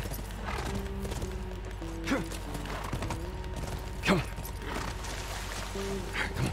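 In The Last of Us video game, a horse's hooves clip-clop steadily under a low ambient drone, with a couple of brief whinny-like calls, and faint game voices appear now and then.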